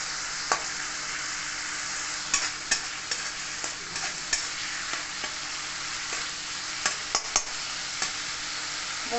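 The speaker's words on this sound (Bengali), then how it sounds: "এরপর দিয়ে দেবো এখানে আমি টমেটো কুচি। সমস্ত মশলাকে একটু কষিয়ে নেবো।" Chopped tomato and spices fry in a pan, a steady sizzle broken by repeated scrapes and clinks as a spoon stirs the masala, close up with no voices.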